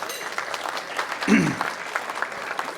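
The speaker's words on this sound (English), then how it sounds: "Round of applause for JFK, who's always involved." Applause from an audience at a chamber of commerce awards dinner in Edison, steady and moderately loud, with a brief louder burst midway and voices murmuring underneath.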